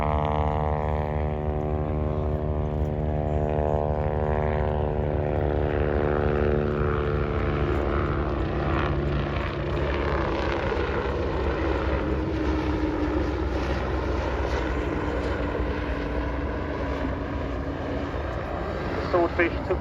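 Fairey Swordfish biplane flying past at an airshow, its propeller engine droning steadily and loudly with a slowly shifting pitch throughout, a voice speaking over it.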